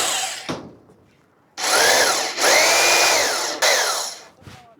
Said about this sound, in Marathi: आता मी टीनामध्ये स्क्रू मारून दाखवणार आहे तुम्हाला.